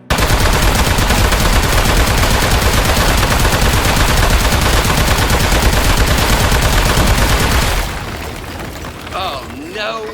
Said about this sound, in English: Shooting him.